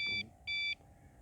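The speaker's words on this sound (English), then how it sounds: "I heard a beep." Two short, steady electronic beeps from the receiver or timer of a Dynam Focke-Wulf Fw 190 1.3m RC plane, evenly spaced and clear, over a low background hum.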